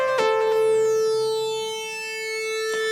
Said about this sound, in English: And then I also wanted a little lead sound behind the chorus.